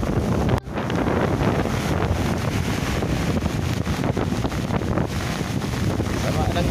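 Strong gusts from Typhoon Dante buffet the microphone at the seashore with big waves, a loud continuous roar of wind and surf broken by a sharp knock near the start, under talk.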